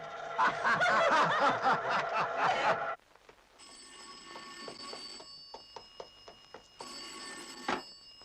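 An old desk telephone rings in a Turkish film scene in repeated bursts after loud laughter fades, the bell clear and fairly close against a quiet room.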